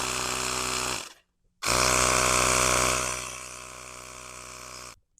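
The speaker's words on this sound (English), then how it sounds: "All right, so we got a different compressor." A trigger-operated portable air compressor inflates a kayak's sand tire, whirring loudly in two bursts with a brief silent pause between them. The second run drops slightly in level before it cuts off.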